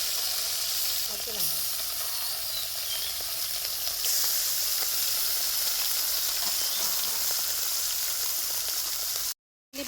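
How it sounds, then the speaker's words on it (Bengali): Puka fish sizzling in hot mustard oil in a wok, a steady dense frying hiss that runs unbroken and close for nearly the whole stretch before cutting out briefly at the end. "প্রথমে আমি মাছগুলি ভেজে নেব।"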